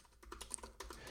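Fast typing on a computer keyboard while entering a git commit command, a close run of about a dozen crisp keystrokes in a bit over a second, with no talk.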